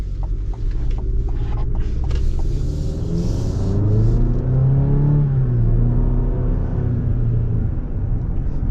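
A 2025 Chevy Colorado ZR2 with a turbocharged four-cylinder engine accelerates hard, its loud, close engine note rising steadily in pitch, holding, then easing off, with no talking.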